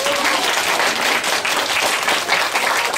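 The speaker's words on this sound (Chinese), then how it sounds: "掌声不够热烈，来再大声一点" Loud, dense applause from a school science-event audience, clapping steadily and close for the whole stretch without a break.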